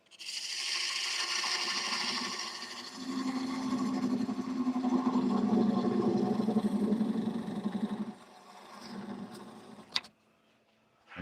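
A wood lathe turning a piece with a parting tool, a steady whirring hum with a sustained cutting tone that rises mid-way, then drops off before a sharp click and near silence at the end.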